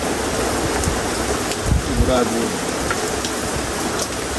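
Steady rain from Typhoon Aghon pours down in a dense, even hiss, with a few louder drips and thuds breaking through the constant wash.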